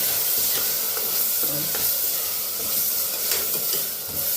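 Vegetables frying in oil for a vegetable pulao, a steady bright sizzle and hiss with occasional stirring scrapes, close and continuous with no talking.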